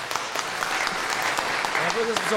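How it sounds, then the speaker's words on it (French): Live audience applause at a recorded podcast show in a Montreal bar venue, dense clapping filling the room with voices talking and cheering over it, fairly close and steady throughout. "Applaudissez vous autres"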